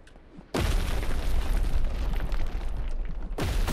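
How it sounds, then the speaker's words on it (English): An explosion move in the Roblox game Arcane Odyssey, a sudden loud blast that bursts in and roars on for nearly three seconds before cutting off, then a second blast strikes at the end. "the rest is just using that explosion move over and over again"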